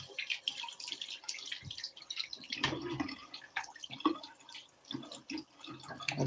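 Water trickles and drips faintly while an arrowhead plant is watered indoors, a soft uneven patter with small splashes close by and no talk.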